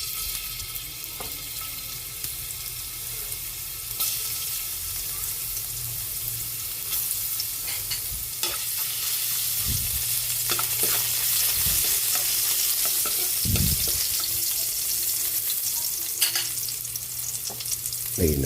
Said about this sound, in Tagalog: Magigisa na tayo ng upo. Lagyan na natin ng mantika.